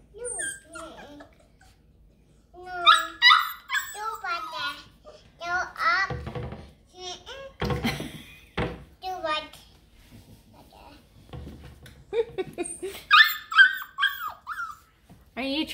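Bluetick Coonhounds whimper and cry for their breakfast in drawn-out whiny bursts, mixed with a child's and adults' talk nearby across a long stretch.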